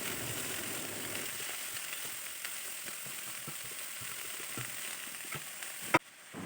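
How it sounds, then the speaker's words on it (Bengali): Cabbage drops into hot mustard oil already sizzling with dried red chillies, five-spice and chopped ginger, giving a steady, even sizzle throughout with faint ticking and one sharp clack near the end. "আদাগুলো কিছুটা ভাজা হয়ে গেলে দিয়ে দেব বাঁধাকপিগুলো।"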